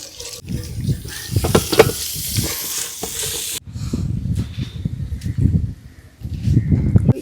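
Mussel roast frying in a pan with coconut pieces and onion over a village cooking fire, with steady sizzling and stirring scrapes that rise and fall, along with a few brief gaps.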